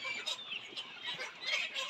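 Hyline Brown layer hens on a poultry farm cluck softly and continually, several birds overlapping in a quiet, slightly distant chorus with no speech.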